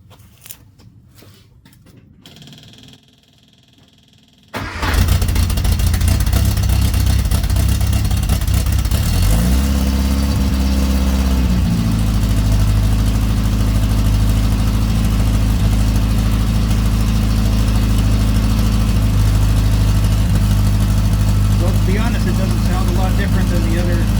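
A car with a home-built exhaust system and muffler fires up after a few quiet seconds and settles into a loud, steady idle, with one brief rise in revs before it drops back to a constant rumble.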